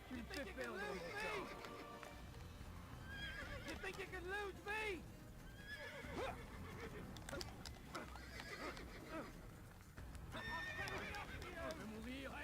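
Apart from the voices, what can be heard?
horse galloping and neighing in video game Assassin's Creed 1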